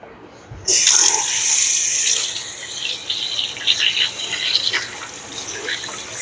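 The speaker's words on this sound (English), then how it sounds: "And wash my hands again." Hands being washed under a kitchen tap, water suddenly gushing on and running steadily with splashing and rubbing that rises and falls, close by.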